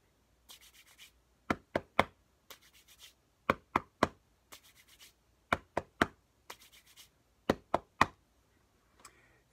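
Hands brushing and clapping together in a repeating body-percussion pattern: soft swishing rubs followed by sharp slaps, cycling evenly and close up, with no talk.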